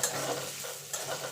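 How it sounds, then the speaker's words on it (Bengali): Chopped medium onion frying in a pan, a steady close sizzle with a few soft stirring scrapes, no voices. "এবার পেঁয়াজটাকে একটুখানি ভেজে নেব"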